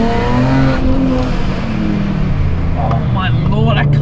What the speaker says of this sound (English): That supercharger combined with that very raspy S54 engine, and it just sounds awesome.